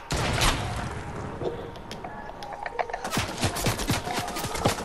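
Rapid gunfire bursts from the video game Fortnite, dense crackling shots in quick succession that stay loud throughout, with a sharper flurry of separate reports toward the end.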